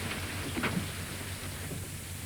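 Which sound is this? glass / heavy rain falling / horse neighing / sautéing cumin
heavy rain falling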